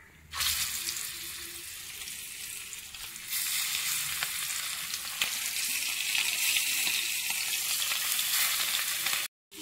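Fish fry sizzles steadily in hot oil for several seconds with a dense, constant crackle. The hiss swells louder partway through and ends abruptly, with no one talking.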